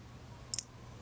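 The on/off button of a 4th generation iPod shuffle clicks twice in quick succession, tiny sharp ticks close by against a faint quiet background.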